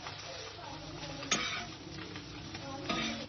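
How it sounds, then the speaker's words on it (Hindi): A filled sandwich fries with onion in a pan, a steady soft sizzle running throughout, broken by a couple of sharp clicks from a utensil turning it. "इसको पलट लीजिए और प्याज के साथ दोनों तरफ से अच्छी तरह से फ्राई हो जाए।"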